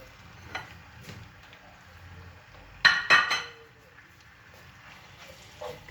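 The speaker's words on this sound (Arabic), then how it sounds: "كنخلي البنات اللحيمه معها البصيله والزيت والثومه على ما يتشحروا واحد 5 دقائق" Meat pieces fry with onion, garlic and a blend of olive and vegetable oil in a pot for a Moroccan lamb and quince tagine: a faint low sizzle broken by a few loud metallic clinks and scrapes of a utensil.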